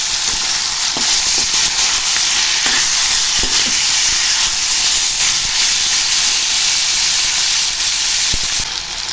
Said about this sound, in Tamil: இப்போ உருளைக்கிழங்கு ஆட் பண்ணி நல்லா இதோட ஃப்ரை பண்ணிடலாம்.